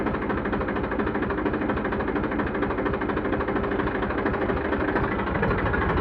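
Eicher 380 tractor engine running in showroom condition, a steady close diesel rumble with an even throbbing pulse throughout, loud and unbroken, no talk.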